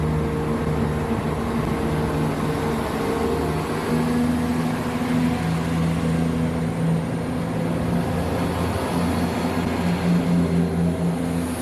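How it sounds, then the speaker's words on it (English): A Class 170 Turbostar diesel multiple unit runs past a station platform at March on the Ely to Peterborough line, giving a steady, loud diesel drone with a humming engine note that holds throughout, with no voices. "I heard the sound of a DMU and couldn't resist the urge to come back to the platform."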